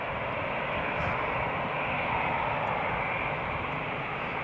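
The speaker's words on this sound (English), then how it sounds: "KLM's now taxiing out" A KLM airliner taxis at Newcastle International Airport, its engines a steady, broad roar held at even loudness throughout, with no talk over it.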